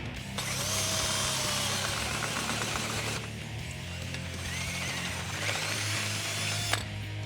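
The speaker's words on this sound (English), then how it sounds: "we're gonna drill out this slot right here to a 1/2 inch. So we're gonna get a sharp 1/2 inch bit." A sharp 1/2 inch bit drills out a slot in a Jeep Wrangler YJ suspension bracket lubricated with WD-40, a loud, close, steady grinding whir running in two long passes with a brief change near the middle.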